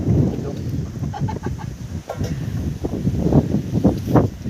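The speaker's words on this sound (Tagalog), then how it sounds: "Ang mga alaga naming kokok." Chickens cluck and squawk in a rural provincial yard, several birds overlapping in busy, uneven bursts close by, with steady outdoor background noise underneath.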